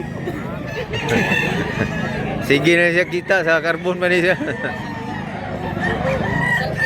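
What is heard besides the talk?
rooster crowing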